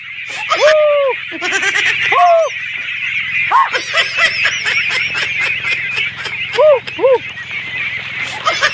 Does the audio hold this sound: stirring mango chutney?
no